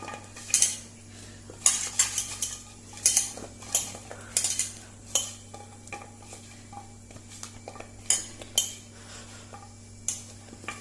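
Sweet potato slices for Goan bhaji are tossed with salt and red chili powder, heard as a steady run of sharp spoon-on-bowl clinks and scraping taps in an uneven mixing rhythm, close and otherwise quiet.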